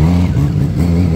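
A 2013 Kawasaki Z1000 motorcycle engine revs loudly and close, a brief rough growl that rises and dips slightly over about a second, with no voices.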